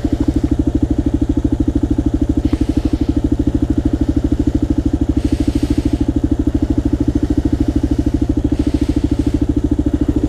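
Kawasaki KLR650 motorcycle engine idling in cool weather, a loud, close, steady rapid thumping with a clattering mechanical edge throughout, no voices.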